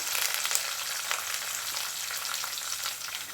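Onions sizzling steadily in a hot pan for a Telangana-style moong dal tomato curry, a dense continuous crackle with brief stirring scrapes and no voices.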